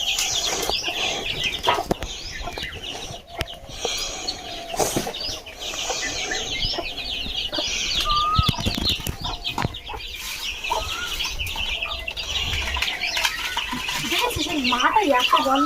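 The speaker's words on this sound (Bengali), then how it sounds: "মা এখন মুরগিগুলো ছেড়ে দিয়ে খাবার দেবে।" Chickens let out for feeding cluck and squawk at close range with bursts of wing flapping, a busy layered chatter that runs throughout while a person speaks nearby.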